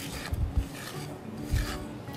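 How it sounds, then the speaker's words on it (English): A spatula folds Victoria sandwich cake batter in a bowl, giving soft, close scraping and rubbing strokes with a couple of louder low thumps against the bowl. "I'll give it just a final mix with the spatula"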